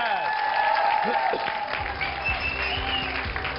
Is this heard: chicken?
no